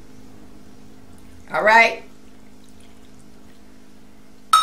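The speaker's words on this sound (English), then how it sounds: "I'm going to put a cup of water." Water from a cup poured into a crockpot for slow-cooked pork chops and potatoes: a short, half-second splashing pour that rises in pitch, amid a quiet kitchen hum.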